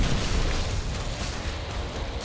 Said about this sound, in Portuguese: Ai, joguei a granada aqui.